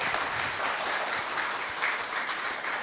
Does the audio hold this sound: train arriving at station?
no